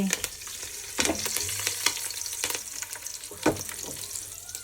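Tempering spices fry in hot oil: cumin, asafoetida, bay leaf, dried red chilies, cinnamon, cloves, black pepper, peanuts and curry leaves. Close crackling and spattering bursts pop over a constant sizzle.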